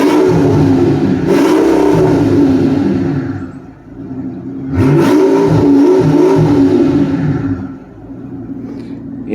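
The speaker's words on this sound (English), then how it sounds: "that's the sound with no catalytics are there, the exhaust cut out" A 2004 Mercedes S600 V12 with an open exhaust and no catalytic converters revs loudly and close, two long surging rev bursts separated by a brief drop back toward idle.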